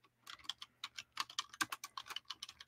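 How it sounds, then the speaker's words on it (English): Rapid keystrokes on a computer keyboard sound close and crisp, a quick uneven run of light clicks with short pauses in a quiet room. "So start typing in, and you can hit tab to get to the next one"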